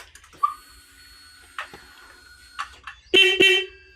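A newly fitted horn on a Triumph motorcycle sounds in a few short test toots, ending in two loud close blasts, with small clicks and handling noises in between.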